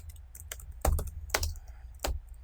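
Keys clack on a computer keyboard as code is typed, a few close, irregular taps over soft background hiss.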